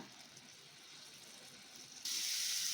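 Paneer cubes frying in a pan give a soft, steady sizzle that suddenly swells into a louder, brighter hiss near the end, close and without talk.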